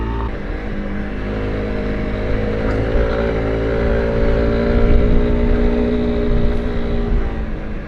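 Honda CRF300L Rally motorcycle riding off-road on a wet, slippery mountain trail, its engine droning steadily and close, with a slight rise in revs midway and no talking.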